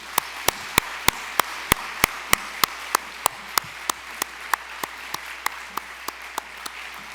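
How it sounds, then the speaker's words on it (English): A crowd applauds award honorees at an alumni awards evening, a steady broadband ovation in which sharp, evenly spaced claps stand out at a regular beat for about seven seconds, with no talking. "Let's give them all one more round of applause."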